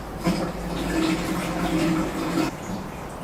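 Water pours steadily through a funnel into the reservoir of a CO2 laser tube chiller, a continuous soft gurgling splash that cuts off near the end, leaving faint hiss.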